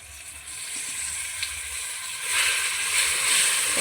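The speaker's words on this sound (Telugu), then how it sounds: "మంచి కలర్ వచ్చింది కాబట్టి మనం సిద్ధం చేసుకున్న పచ్చడిని అయితే ఇందులో వేసుకుందాం।" Gongura chutney tipped into a hot tempering in a pan brings a bright, close sizzle that swells louder partway through and keeps crackling steadily, with no voices.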